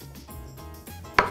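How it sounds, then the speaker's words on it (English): A knife chops garlic on a cutting board in a kitchen, giving a few soft, uneven taps that end in one sharp, louder chop. "the first thing we're gonna do is chop up the garlic"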